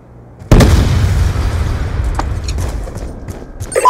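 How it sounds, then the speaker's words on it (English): A grenade explosion in Call of Duty Black Ops II, one sudden loud close blast that decays into a long rumbling tail, followed by faint scattered debris and combat sounds, with no talk. "Grenade, move!"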